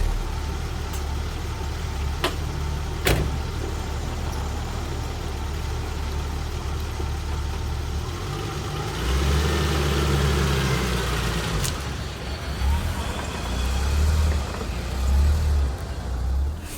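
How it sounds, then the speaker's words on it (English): A BMW E30 with a newly replaced fuel filter and hoses on a test drive, its engine idling low and steady before it pulls away with a rising rumble and road noise, a few sharp clicks early on. "Let's do a quick test drive."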